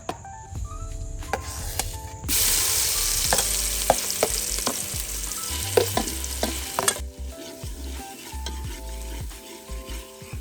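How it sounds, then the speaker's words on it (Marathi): Spice masala roasting in oil for a rustic mutton curry, a dense sizzle with clinking spoon scrapes and pan knocks that rises loud midway then eases back, heard up close with no talking. "तेलात मसाला भाजताना जास्त कोरडं वाटत असेल तर त्यात अळणी मिक्स करून भाजायचं"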